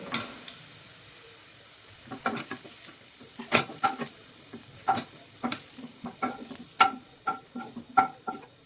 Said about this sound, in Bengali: পেঁয়াজটা লাল লাল করে ভাজা হয়ে গিয়েছে